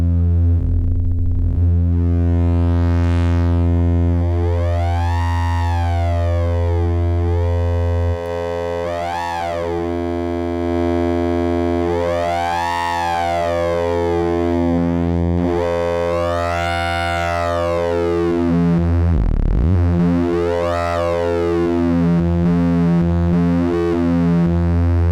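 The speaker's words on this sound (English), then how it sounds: "And I'm just going to play with the rise and fall times of this and see if I can get those rippling harmonics." A synced triangle wave from a Serge modular synth holds a steady buzzing tone while its harmonics sweep up and down in slow rippling arcs, loud and sustained with no voices.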